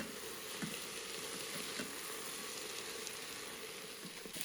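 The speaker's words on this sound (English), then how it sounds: "We're going to give that all a stir around" Aromats sizzle and fry steadily in a pan with tomato puree and garlic puree, with a few soft scrapes as they are stirred around.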